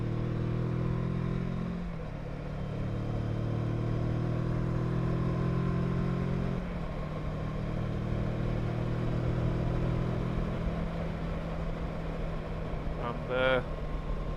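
A Benelli 702 or Kawasaki Versys 650 motorcycle being ridden, its steady engine drone holding throughout with a shift in pitch partway, under someone talking.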